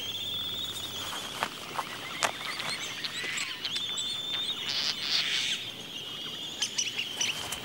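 Albatrosses on Midway Atoll, heard as high chirps, clicks and squeaky calls over a steady bed of colony noise and wind, close and fairly loud, with short percussive pecks scattered throughout.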